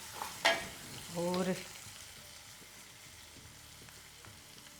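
Soaked moong dal with fenugreek roasts in a pan over a low flame, giving a close crackling sizzle with two bursts of stirring early on, then settling into a quiet simmer as a voice speaks one brief word.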